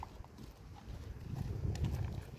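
An eight-year-old Don horse clip-clops as it is walked, the hooves striking in an uneven steady pattern at close range, growing louder toward the end.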